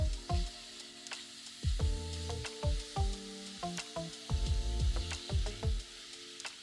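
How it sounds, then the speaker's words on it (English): Bacon fries in a pan over medium-high heat, crackling and sizzling softly in repeated pulses close by. "once we've added our bacon to the pan, we just want to have it on a medium high heat, and we just want to cook it until they're almost done"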